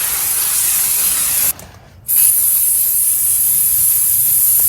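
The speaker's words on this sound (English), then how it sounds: "give them some really good spray with brake cleaner." Brake cleaner sprayed from an aerosol can onto the front brake pads of a Renault Clio MK, a loud continuous hiss that cuts out briefly partway through, then resumes steadily to the end.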